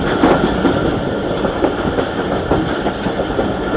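A passenger train in the Thar desert pulls in to halt at Jamdau Junction, its engine and wagons giving a steady, close rumble with faint rhythmic clatter and no talk.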